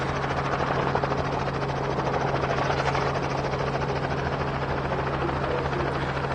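Gyrocopter coming in to land at Barton Aerodrome during a fly-in event, its rotor and engine giving a steady, loud, continuous drone with a strong low hum that holds throughout.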